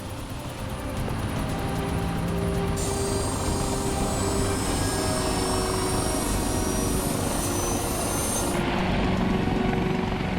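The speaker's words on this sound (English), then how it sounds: "With the chopper in the air" A helicopter drones steadily overhead at an icy-highway truck wreck rescue, its loud rotor and engine noise filling the whole stretch with a continuous throbbing roar.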